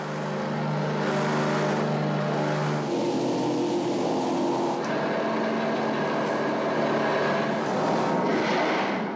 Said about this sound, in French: Puis embarquement dans un C-47, un authentique transport de parachutistes, pour un vol de quelques minutes en 1944.